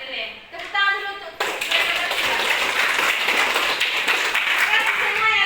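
A class of schoolchildren claps together in a classroom, a dense, steady burst of many hands after a short moment of talk, filling several seconds at close range.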